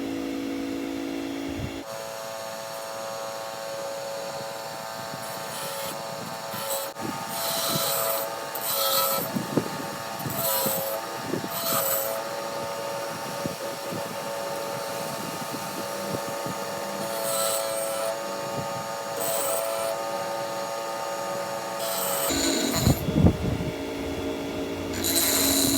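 A Tiger Teeth blade sharpener works a saw blade, producing a steady whirring hum with repeated bursts of gritty grinding and rasping, moderately close and without speech.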